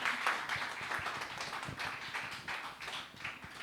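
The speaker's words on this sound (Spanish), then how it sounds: "La recibimos con un aplauso." A church congregation applauds at a Sunday service, a steady patter of many hands clapping with a few sharper individual claps, moderately loud and continuous without talk.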